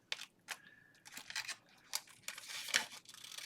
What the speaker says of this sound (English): My scissors don't like cutting it,